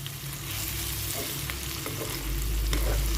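Spiced potato bhujia being stirred in a frying pan, a steady soft sizzle with scraping stir sounds, continuous and close, no talking.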